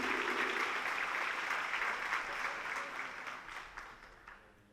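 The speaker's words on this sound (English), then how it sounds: "give yourselves a big round of applause for doing that so well" An audience at a Cumberland County education event applauds, dense sustained clapping that starts full and gradually fades toward the end.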